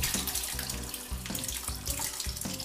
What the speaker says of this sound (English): So all we're doing is uh, pouring that into a, a cheesecloth lined colander.